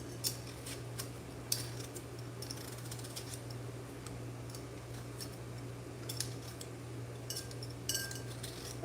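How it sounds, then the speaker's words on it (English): Potatoes being peeled in a kitchen with a twin-blade peeler, a series of faint, irregular scraping strokes over a steady low electrical hum, with no speech. "So we're peeling the potato"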